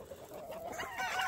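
Backyard chickens clucking close by in a short, busy burst of overlapping throaty calls, with no talking.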